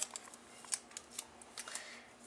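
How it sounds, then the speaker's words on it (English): Tape being peeled off paper for a papercraft stamping project: faint, close, crackly tearing and small snaps in short bursts, quiet and alone. "So I'm going to peel away this tape"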